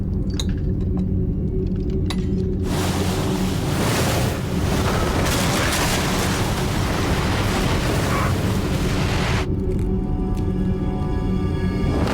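A huge peripheral wave, six meters high, crashes into New York after a comet impact, a loud sustained roaring surge of churning water that swells suddenly and lasts for several seconds before falling away to a low rumble.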